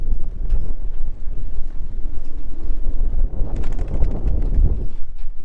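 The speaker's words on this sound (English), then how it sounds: "But yeah, it's extremely windy." Strong gusty wind buffets a moored sailboat in harbour, a loud continuous low rumble with rattling rigging and creaks, no one speaking.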